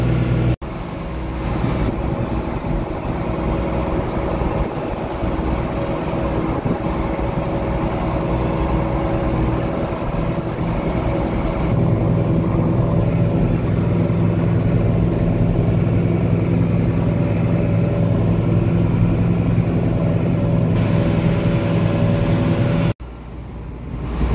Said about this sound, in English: I'm driving along our path back here, taking one windrow at a time.